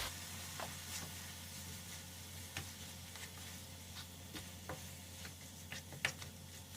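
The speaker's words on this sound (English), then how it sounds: "I'm going to just sort of mix her curry powder in there" Beef curry being stirred in a pan as curry powder is mixed in, with a steady low sizzle and scattered soft scrapes and clicks of the utensil against the pan throughout.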